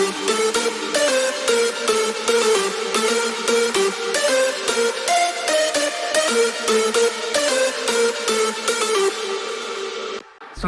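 Layered hardstyle synth lead mixed in FL Studio: a bright, loud detuned melody in rhythmic, evenly pulsed notes, sustained across the phrase before cutting off near the end.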